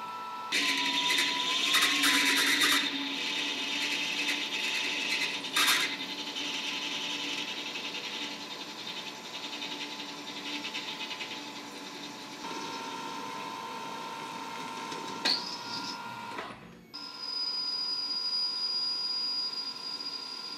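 A machine tool bores with a 9.2 mm flat-ground drill and a coolant-fed boring bar, giving a sustained tonal whine with shifting pitches, brief clanks and a short pause before the cutting hum resumes.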